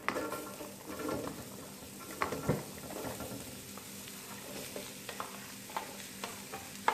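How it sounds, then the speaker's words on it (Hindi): Onions frying and sizzling in a small amount of leftover oil in a pan, with soft crackling patter and occasional stirring clinks, fairly quiet and steady. "बचे हुए तेल में ही मैं इसी पैन में, सेम पैन में ये प्याज ऐड कर दूंगी।"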